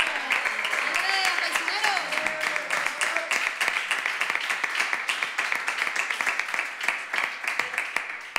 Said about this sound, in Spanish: Un aplauso para el otro